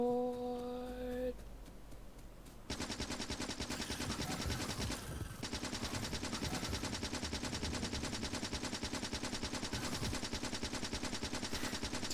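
Rapid bursts of automatic gunfire from turrets or weapons in the factory-building video game Factorio, a dense continuous rattle running for most of the clip after a brief quieter start with synth tones, loud and steady with no talk.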